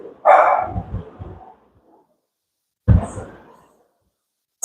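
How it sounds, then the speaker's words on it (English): A dog barks a few times nearby, a short burst of loud barks followed by a pause and another single bark. "Oops, my dog is barking."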